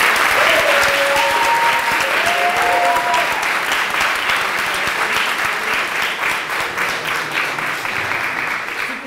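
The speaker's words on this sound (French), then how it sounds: "je pense qu'on peut quand même t'applaudir" Loud, sustained applause from an audience at the final of the Coupe Francilienne, a dense wash of clapping with a few cheers and voices early on, continuing evenly to the end.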